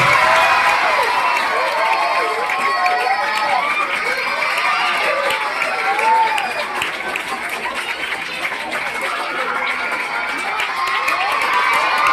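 Crowd of children and adults clapping and cheering at a Telugu Day celebration in an English-medium school, a dense continuous wash of applause with shouts and chatter throughout.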